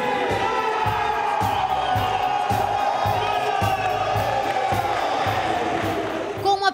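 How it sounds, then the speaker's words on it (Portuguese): A small but lively crowd at an Olympic boxing championship in São José cheers and shouts continuously, with rhythmic thumps beneath the voices and a brief louder burst at the very end. "Com uma pequena torcida presente, mas bastante participativa"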